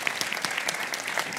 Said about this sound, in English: can we just give a round of applause to teachers